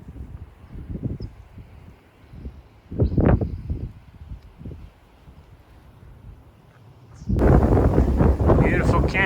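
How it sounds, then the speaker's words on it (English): Gusty evening wind in a canyon buffets the microphone in low rumbling bursts, swelling into a strong, steady roar near the end. "Beautiful canyon, albeit very windy this evening."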